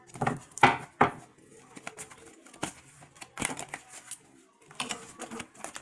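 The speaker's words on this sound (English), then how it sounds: "I'm shuffling like really sloppy today" Close-up tarot cards being shuffled sloppily in quick, uneven bursts of papery riffling and clicking, with short pauses between.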